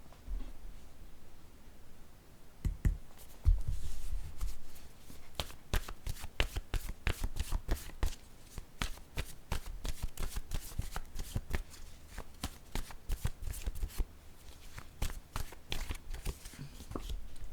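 Tarot cards are shuffled by hand, close and crisp. After a few soft handling sounds, a long run of rapid riffling snaps follows in quick bursts with no talking.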